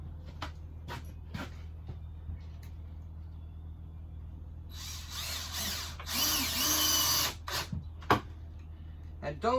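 Power drill driving screws into wood while building a cat shelter, with a loud, steady whir that swells midway through, between spells of someone talking.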